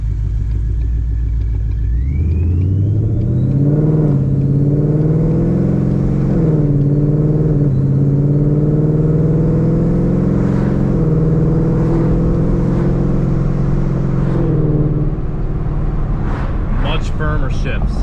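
A Ford pickup with a 10R80 transmission accelerates in sport mode, its engine droning loud and steady inside the cab as it climbs through several firm shifts, with a voice talking over the road rumble.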